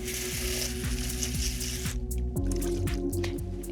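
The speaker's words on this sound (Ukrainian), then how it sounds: "Просто під проточною водою." Salted cabbage for kimchi is rinsed under a running kitchen tap, giving a steady splashing hiss of water with a brief change in flow partway through.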